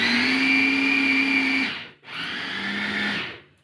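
An electric grinder whirs steadily as it grinds a halved onion. It runs for nearly two seconds, cuts out briefly, then starts again and winds down. The motor sounds close and loud, and no one speaks.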